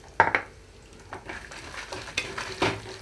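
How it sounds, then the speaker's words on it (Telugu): Peanuts, fresh coconut, sesame, coriander seeds and dried red chillies being dry-roasted in a pan over a low flame, with a few sharp stirring scrapes and soft rattling close by, no talk. "లో ఫ్లేమ్లో నుంచి వేయించుకోవాలి ఇవన్నీ కూడా."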